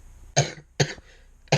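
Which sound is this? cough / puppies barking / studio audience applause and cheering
cough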